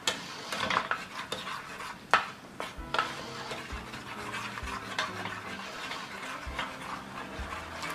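A soup spoon stirs hoisin and peanut sauce in a bowl, with scraping clinks of metal on dish, a few sharper knocks, and a soft sizzle faintly underneath.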